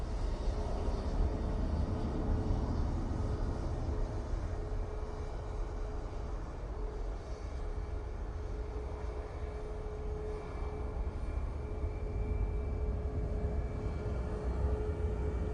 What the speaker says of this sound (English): Off to Madrid. Ryanair using that 737